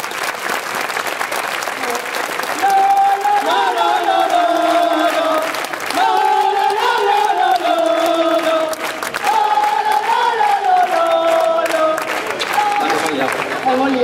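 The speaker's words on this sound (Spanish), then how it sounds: "Yo quiero pedir un aplauso para los padres" An audience at a staged musical by a children's band cheers and applauds the parents, a loud, sustained crowd roar with whoops and shouting lasting throughout, sung or chanted tones rising above the clapping.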